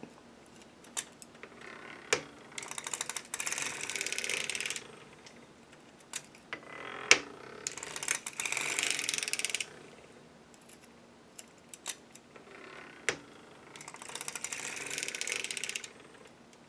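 A hand-cranked circular sock machine knitting the decreasing part of a sock heel gives bursts of rapid mechanical clicking and ratcheting. Several cranking passes are separated by short pauses and sharp individual clacks, close and alone without voices.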